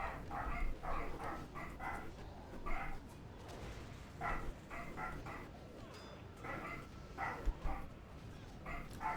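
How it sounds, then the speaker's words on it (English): A dog barks in repeated bursts of yips and bow-wows at a household doorway as the postman arrives, fairly close and loud, with short pauses between volleys. "I hear a doggo barking."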